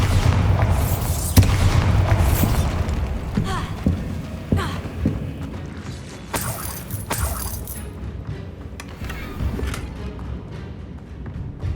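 Bombarda spell explosions in Hogwarts Legacy go off as several sharp booms and thuds scattered across the stretch, each followed by crumbling debris and rattling, with quieter game ambience between blasts.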